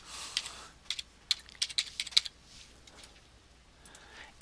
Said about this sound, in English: I'm going to go ahead and type in my city